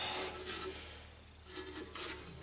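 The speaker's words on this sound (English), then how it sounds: "the tyre rubs on the inside" An electric moped tyre rasps against the inside of its fender, producing short, scratchy rubbing bursts in two clusters, close up and moderately quiet, with no talking.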